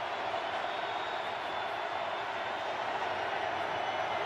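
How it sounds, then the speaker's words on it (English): A packed football stadium crowd roars during a Packers at Steelers Sunday night game in 2017, a steady, broad wall of noise from tens of thousands of fans, sustained and even with no single voice standing out. "Crowd rising as one."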